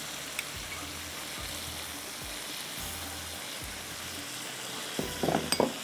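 Achari and kadai masala frying in a pan, a soft steady sizzle punctuated by regular low spoon taps and scrapes, with a brief louder clatter near the end.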